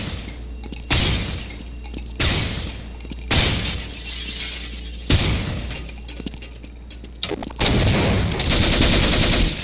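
Bursts of gunfire in a video game, several loud sharp volleys separated by short pauses, ending in a longer sustained stretch of firing, with no talk over it.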